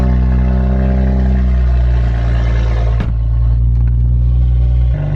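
A Toyota Supra engine rumbles steadily with a deep, loud low drone, idling with slight shifts in tone and no voices.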